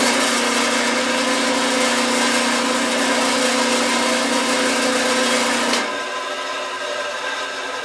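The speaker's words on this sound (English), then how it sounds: "Just turn it on and just listen to it for a minute or so." A freshly tuned woodworking band saw runs free with no cut, giving an even, steady whine and hum that cuts off abruptly near the end, leaving a quieter wind-down.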